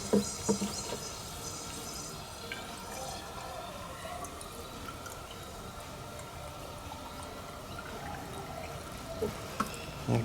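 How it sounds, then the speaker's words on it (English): Water is poured into the EGR cooler of a Ford Ranger (Mazda BT50) in a faint, steady trickle, with scattered small clicks and drips and no talk. "I'm gonna just put some water in there"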